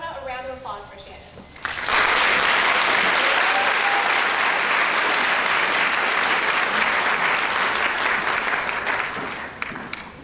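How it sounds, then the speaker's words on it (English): An audience breaks into applause after a performer plays a piece in front of people, with dense sustained clapping that begins suddenly following some talk and lasts about eight seconds before tapering off. "So I want a round of applause for Shannon."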